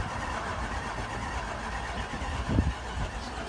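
A Range Rover engine cranking during a rebuild project as it is tried for a start: a steady, close churning drone with a brief heavier thump near the end, and no talking.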